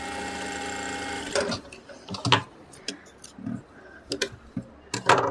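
A sewing machine runs in short, uneven bursts of stitching across a trouser waistband, with pauses between runs and softer handling noises in the gaps.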